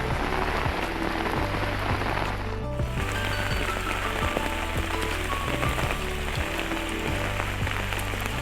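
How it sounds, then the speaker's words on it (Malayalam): Heavy rain pours down in a steady, dense hiss of drops striking surfaces, continuous and fairly close throughout with no voices. "തീരു മഴയാണ്, ഒരു രക്ഷയില്ല"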